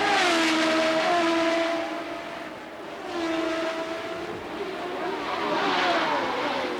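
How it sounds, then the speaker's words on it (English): Indy race cars from the 1990 Marlboro Grand Prix scream past on a straightaway, their engine notes rising and falling in pitch as they approach and pass, loud and continuous with no voices. "That car of Rick Mears, though, really runs down those straightaways."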